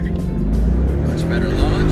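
A 2016 Ford Mustang GT Convertible launches hard from a standstill, its V8 roaring loud and close in a sustained surge, with a person talking over it.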